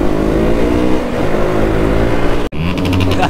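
A KTM RC390 motorcycle revs loudly and steadily up close during wheelies on a road, its engine holding a dense drone before a sudden brief cutout and then resuming.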